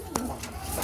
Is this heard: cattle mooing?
no